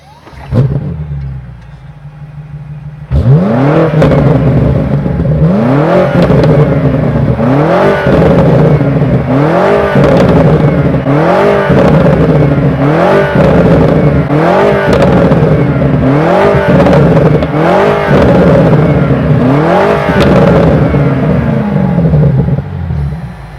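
A 2025 BMW M5 engine starts, then revs repeatedly in regular surges, each rising and falling, loud and close from outside the car, with no voices.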